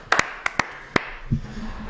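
A few sharp, scattered hand claps from the hosts of a live Europa League stream after Sevilla's 3-0 win over Man United, spaced unevenly over about a second, then a low murmuring voice.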